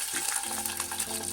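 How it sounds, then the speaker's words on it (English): Jamaican fried dumplings frying in a pan of hot oil, a close, steady hissing sizzle with light crackle, brief and continuous with no talk. "So we're going to fry up the dumpling"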